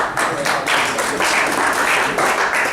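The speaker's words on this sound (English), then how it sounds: "I think you deserve a round of applause." An audience at an auctioneering competition heat breaks into sustained applause, a dense, loud wash of clapping in slightly pulsing waves with no talk.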